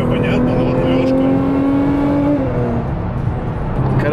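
A Nissan GT-R Stage 2 engine drones steadily while driving, a loud continuous cabin hum with a rising then falling tone as the revs shift, road rumble underneath throughout.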